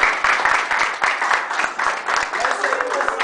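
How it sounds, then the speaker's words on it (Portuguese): An audience at a gaming talk applauds a guest speaker, with dense, close clapping that has distinct individual claps throughout and a voice speaking over it. "Uma salva de palmas para ele."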